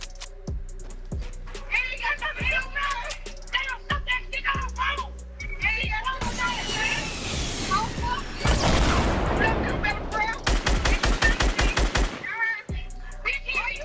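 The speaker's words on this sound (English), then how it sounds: "They're shooting from over here." Gunfire in the battle royale game Fortnite: a sharp run of single shots, then dense bursts of rapid automatic fire and a string of quick shots, loud and close, with a player talking in between.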